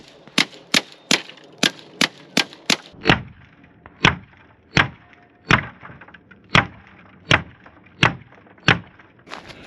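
A suppressed .22 LR Beretta 21A pistol with a SilencerCo Sparrow suppressor firing into 1.5-inch pine boards: about fifteen sharp cracks, rapid at first and then spaced roughly a second apart, each with a short thud.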